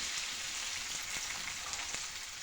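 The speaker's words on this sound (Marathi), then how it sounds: "तर भेंडीमध्ये थोडेसे जिरे घालते आणि लगेच भेंडी परताव्या टाकते" Okra and cumin fry in hot oil in a pan, a continuous dense sizzle that stays close and even throughout, with no voices.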